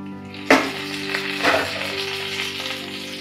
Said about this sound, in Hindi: आलू भी हमारे अच्छे तरह से फ्राई हो रहे हैं